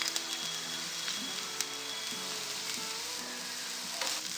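Crushed ginger and garlic sauté with browned onion and green chillies in a pan on low heat, giving a steady close sizzle with occasional scraping stirs of a spoon throughout.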